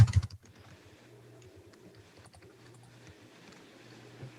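Computer keyboard typing on a desk, a loud burst of keystrokes at the start and then sparse, faint clicks over a low steady hum.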